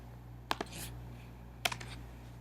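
Two quick pairs of key clicks from a computer keyboard, faint and close, over a steady low electrical hum in a quiet room.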